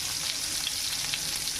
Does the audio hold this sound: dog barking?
no